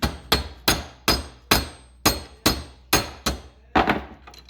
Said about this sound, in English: Unless I just take a sledge to it.